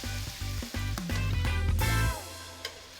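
Close, loud sizzling and crackling as chicken fries in a hot pan with turmeric, with rhythmic stirring or scraping, then the sizzle settles to a quieter hiss.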